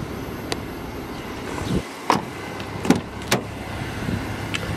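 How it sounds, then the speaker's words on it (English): Electric folding door mirrors on a Renault Kadjar 1.3 TCe Iconic SUV whirring in short motor bursts, with several distinct clicks and clunks as they fold, heard close up with no talk. "electric and folding mirrors"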